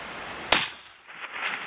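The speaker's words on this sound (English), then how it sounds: "Daddy, come shoot another one." A .300WSM long range rifle fires once outdoors, a single sharp loud crack followed by a fading rolling echo.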